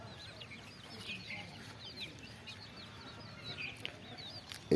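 Hens cluck and chicks peep in thin, scattered calls around a misty village yard, soft and somewhat distant, ending with a brief louder knock.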